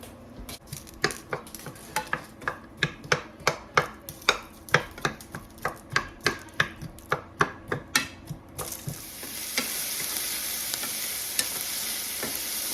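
Diced onion softening in olive oil in a pan, with a quick run of sharp utensil scrapes and taps against the pan for about eight seconds, then a steady, louder broadband sizzle as the onion fries.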